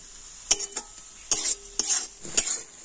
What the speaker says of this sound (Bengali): হলুদ আর লবণ দিয়ে আমি সবকিছু কিন্তু ভালোভাবে নাড়াচাড়া করে নিচ্ছি।